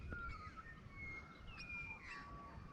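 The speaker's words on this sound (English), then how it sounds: "Birds are singing" Faint, thin birdsong chirps and whistles drift in from a distance over a steady morning outdoor background hiss, with no voices.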